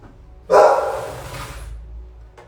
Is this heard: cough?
no